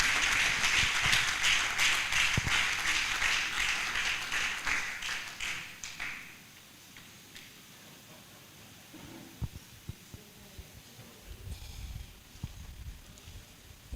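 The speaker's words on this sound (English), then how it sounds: "Please continue clapping as he comes to the podium" Audience applause at a medical laboratory science induction ceremony, steady clapping from a crowd that fades after several seconds, leaving scattered taps and faint room noise.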